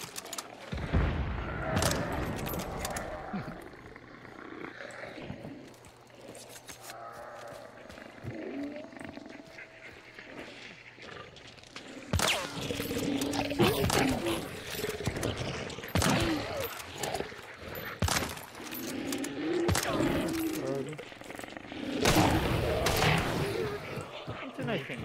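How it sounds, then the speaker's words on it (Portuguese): Repeated sharp bursts of video game gunfire, some in quick clusters, ring out under ongoing talk and background game sounds. "tá vendo que o tiro tá perto aí"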